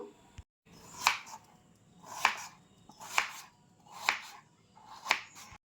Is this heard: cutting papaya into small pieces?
yes